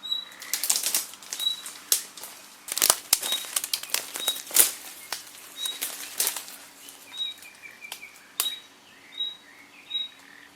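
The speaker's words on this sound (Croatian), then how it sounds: "Bar ovaj zvuk ptica smiruje" Birds in a forest flap their wings in repeated sharp fluttering bursts, close and loud, while high chirps and tweets recur at regular intervals in the background.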